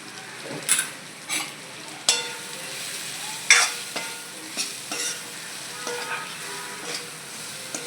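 Spices stirred in a sizzling pan for kantola (spiny gourd) curry, salt just added, a spoon scraping and knocking against the metal in irregular strokes over a steady frying hiss.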